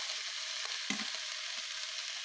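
Tomato with ginger and onion pastes stirred in a frying pan for a Bengali fish curry, a steady loud sizzle with a few brief scrapes of the spoon, close up and with no talking.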